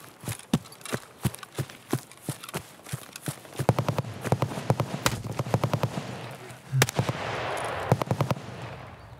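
Gunshots in the shooter game Escape from Tarkov: a rapid run of sharp, close reports in uneven bursts, growing denser toward the end with a brief noisy stretch, no voices.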